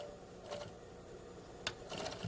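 A sewing machine stitching across a garment seam, faint and soft, with short bursts of rapid needle chatter separated by quiet pauses.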